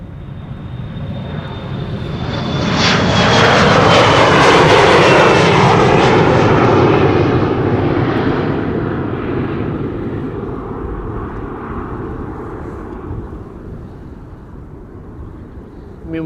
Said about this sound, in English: this has been KLM flight 1079. Outbound Bristol, Embraer 175.